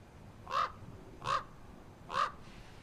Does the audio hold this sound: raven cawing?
yes